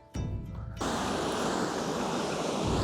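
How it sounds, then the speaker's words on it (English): A river at a Japanese kofun burial mound site flows in a loud, steady broadband rush close by, with a brief quieter moment at the start before the water noise takes over. "right over here, we've got the river"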